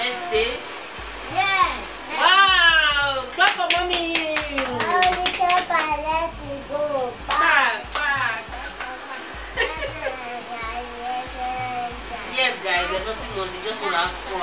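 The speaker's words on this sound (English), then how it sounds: "Clap for mommy! I want to clap for that." Family at home clapping for mommy after her singing: scattered handclaps mixed in with lively children's voices and excited chatter, close and busy, the claps partly buried under the talking.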